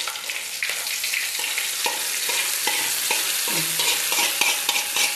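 A spoon stirs through mango curry simmering with coconut milk in a pan, making quick repeated scrapes and clinks over a steady soft sizzle and bubbling.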